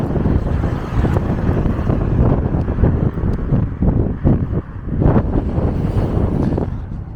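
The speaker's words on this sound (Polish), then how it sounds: "Wiatr jest w tej chwili bardzo silny." Strong wind buffets the microphone nonstop, a loud gusty roar with rumbling surges and no clear voice, at a bus stop in Wieruchów, Poland.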